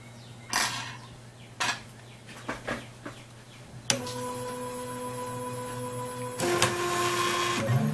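A RepRap Wilson TS 3D printer at work, with stepper motors whining in shifting tones and short clicks and taps before a sustained motor drone, moderately quiet and close.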